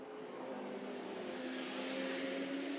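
Porsche 991 race car in GT Cup Open qualifying at the Hungaroring, its engine a steady sustained drone under broadband noise that slowly rises in pitch and intensity as the car accelerates, with no voices.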